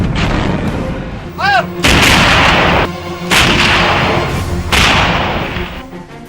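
Bofors artillery guns firing shells during the Kargil war at Tololing, several heavy booming blasts spaced a second or two apart, each with a long rumbling decay, plus a brief whistling sweep early on.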